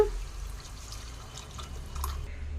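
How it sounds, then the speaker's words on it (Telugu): Tamarind juice is poured into a pan for fish curry, giving a faint, close liquid trickle with soft drips over low background noise. "సో ఇదిగోండి చింతపండు రసం అయితే పోసేసుకుంటున్నాను"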